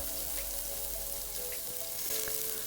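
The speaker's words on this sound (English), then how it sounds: "So for 1 minute I'll fry all these onions and ginger and the green chili." Onions, ginger and green chili frying in oil for khichdi, a continuous low crackling sizzle with soft popping, steady and unbroken, no voices.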